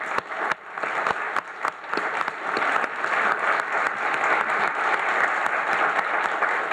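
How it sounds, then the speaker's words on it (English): Audience at a conference closing plenary breaking into applause, beginning with scattered individual claps that swell into steady, full clapping sustained to the end. "please join me in another round of applause to Jo-Fan herself"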